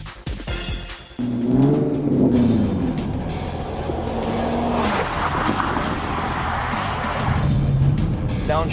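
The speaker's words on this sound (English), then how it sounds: "Downshifting, very, very nice. Smooth gears. Very nice cornering." A sports car being driven hard on a race track, its engine note rising and falling through downshifts and corners, with some tire squeal, loud and close throughout.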